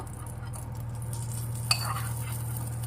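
Golden-brown fried cashew pieces being stirred in a pan for a rice and sago pongal, soft scraping and a faint low sizzle with one sharp clink of a spoon against the pan midway.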